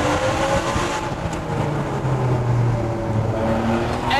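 A Ferrari F599 GTB Fiorano accelerates through a road tunnel, its engine a loud, sustained drone with a slowly climbing pitch, enclosed and reverberant, with no voices over it.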